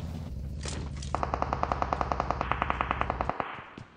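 Rapid automatic gunfire in a battle royale video game, a steady burst of about twenty evenly spaced shots at close range, loud over a low background rumble, with no talking.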